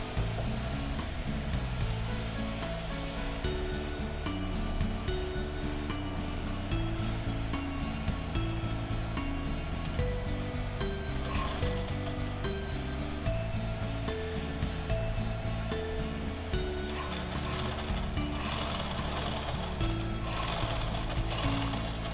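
A sewing machine stitches quilted cloth for a bag, a continuous dense mechanical clatter and whir running steadily throughout at a fairly even level.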